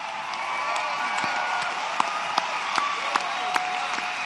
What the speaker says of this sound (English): He fired up that crowd with his common sense positions, and the place was going crazy.